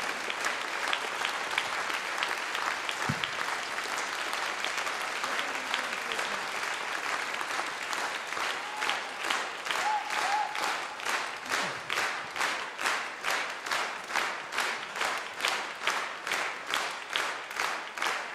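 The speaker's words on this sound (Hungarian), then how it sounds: "Köszönjük a tapsot." Live concert audience at the Uránia National Film Theatre applauding a Hungarian music performance: dense, sustained clapping that settles into loud rhythmic unison clapping toward the end, steady and full throughout.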